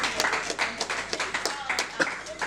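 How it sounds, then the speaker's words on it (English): An audience gives a round of applause, with scattered, uneven claps heard close by while voices talk over them. "They got a round of applause for it."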